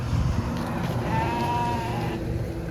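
Sheep bleat beside a road where a shepherd's flock is gathered, with one clear, wavering bleat standing out at middle distance over a constant rumble of outdoor noise.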